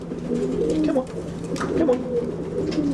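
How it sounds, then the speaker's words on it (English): Racing pigeons coo close by in a loft, a steady run of soft, throaty rolling calls throughout, with faint background noise. "What a magnificent looking pigeon."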